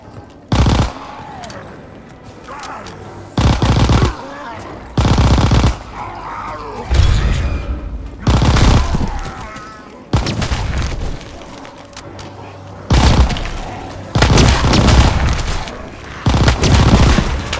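Gunfire in the World War II shooter Call of Duty WWII, with loud bursts of automatic fire repeating every second or two, separated by brief quieter gaps.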